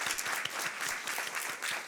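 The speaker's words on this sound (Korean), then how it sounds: "우리 김상기 목사님 가족 힘찬 박수로 격려해 주시면 감사하겠습니다" Church congregation clapping to encourage a pastor's family during a Korean Sunday worship service, a short burst of steady, moderately loud applause with no talking.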